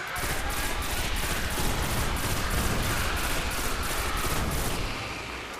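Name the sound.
Oversoul Edict pulse rifle firing fully automatic, video game Destiny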